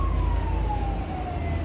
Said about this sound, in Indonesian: Ambulan guys, ambulan.